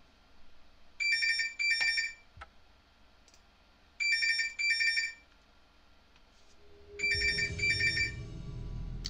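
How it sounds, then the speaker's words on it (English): Phone ringtone going off in repeated bursts of bright electronic chiming, three rings spaced a few seconds apart, fairly close, the last overlapping a low rumbling noise. "Sorry for the phone going off."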